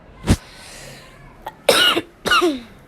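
A single sharp cough from someone with a sore throat, then a pause, followed by two harsher coughing bursts close to the mic, with no talking.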